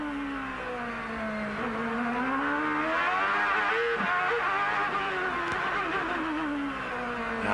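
An onboard race car engine screams at close to 15,000 RPM during a qualifying lap at Surfers Paradise in 1997, its loud high-pitched whine rising and falling through gear changes and acceleration, with no commentary over it.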